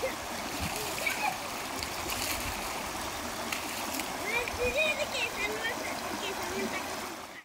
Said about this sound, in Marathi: इथे किती खळखळ वाहता, पाण्याचा आवाज किती छान येतो.